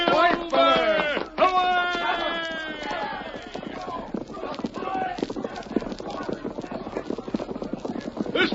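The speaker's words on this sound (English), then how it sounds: "Get on your horse, Tonto." Horses galloping in a radio drama sound effect, with a sharp whinny at the start and steady rapid clip-clop hoofbeats running under shouted dialogue throughout.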